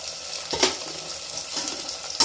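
Halved garlic cloves drop into hot oil in a pan and sizzle steadily, with a couple of sharper crackling bursts and faint stirring clatter over the continuous frying hiss.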